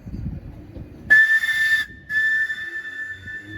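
A London Underground 1972 Mark II stock Bakerloo line train sounding its whistle, two loud, piercing steady tones, the first about 0.7 seconds and the second about 1.5 seconds long, with a short gap between.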